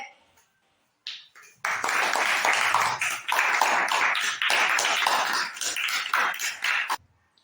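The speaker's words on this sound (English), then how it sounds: "Let's clap." A burst of applause from a group at an inter-school award, many hands clapping steadily for about five seconds, fairly loud and close, then stopping abruptly.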